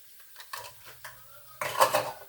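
Utensil scraping and clinking against a bowl while stirring quiche mixture with added milk, a few short bursts then a louder, busier stretch of stirring near the end, close and with no talk.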